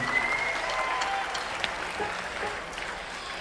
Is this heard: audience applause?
yes